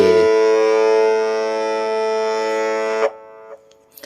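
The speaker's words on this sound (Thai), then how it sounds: "สายห้าจะเป็นเสียงเอ" A single plucked guitar string, the fifth string tuned to A, rings out as a steady sustained note for about three seconds, then is muted, leaving faint small noises.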